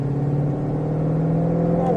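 A Mustang Shelby GT500 with a 760 hp engine on a track drones with a steady, loud engine tone that climbs gradually in pitch as it accelerates.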